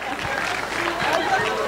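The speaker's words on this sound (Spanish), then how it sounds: "¡Aplausos!" Live audience at a popular science talk breaking into sustained applause, a dense wash of clapping with crowd noise and cheering voices mixed in throughout.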